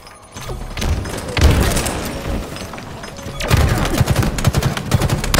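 Video game combat with grenade explosions and gunfire, loud booms and rapid bursts of shots layered over one another, continuous and close, with a brief voice partly under the noise.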